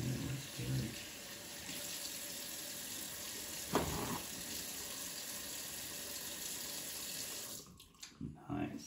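A water tap runs in a steady hiss into a sink while hands are washed, broken by a brief splash partway through, and the flow cuts off near the end, leaving a few soft clunks; faint talk in the background.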